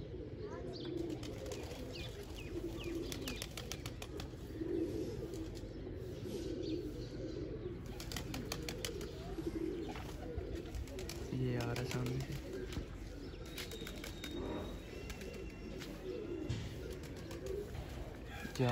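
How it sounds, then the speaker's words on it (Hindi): Pigeons cooing in a village setting near a tall bird net, soft repeated coos and faint chirps over a hissy outdoor background, with someone talking over them at times. "ये एक और कबूतर आगे से घूम रहा है।"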